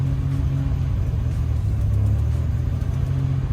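A 1984–87 Buick turbo engine held just above idle on light throttle, a close, steady low rumble with a slight rise and fall in pitch and no voices over it.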